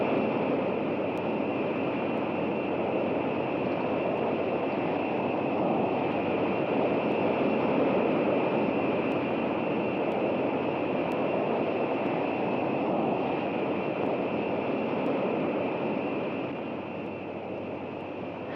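North American X-15 rocket plane in flight, a steady, loud broadband roar with a constant high whine that holds unchanged throughout and eases slightly at the end, with no voices.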